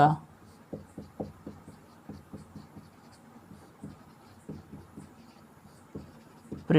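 Chalk taps and scrapes on a board during a Class 12 physics lesson on ray optics, a quiet run of short irregular strokes in small bursts, with a teacher's voice at the start and end.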